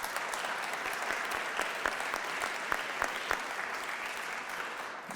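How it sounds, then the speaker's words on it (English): Audience at a political speech on health care policy applauding, a fairly distant, even patter of many hands with a few sharper individual claps standing out, no talking. "Leader Pelosi up here applauding furiously"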